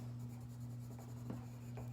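A pencil colours in an owl drawing with steady, soft scratching strokes close up, a few brief louder scrapes standing out over a constant low hum.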